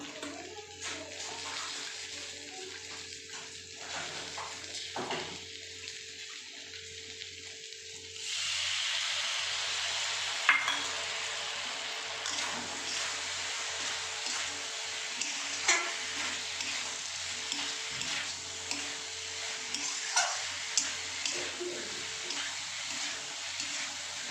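Paneer and beans for chilli beans paneer fry hard in a pan on a high gas flame as cornflour slurry goes in, a quiet start giving way to a loud, steady sizzle with repeated stirring scrapes.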